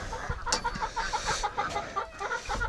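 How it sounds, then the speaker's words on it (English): A chicken clucks near a barn in a steady run of short, close, chattering clucks, with light wind or outdoor noise underneath and no speech. "That's a chicken."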